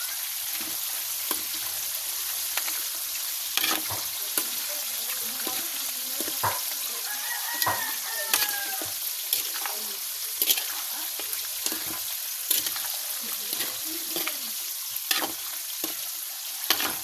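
Humba pork browning in a pan, a steady broadband sizzle with scattered clicks and scrapes of stirring, fairly close and continuous throughout.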